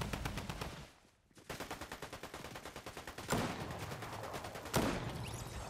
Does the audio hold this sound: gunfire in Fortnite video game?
yes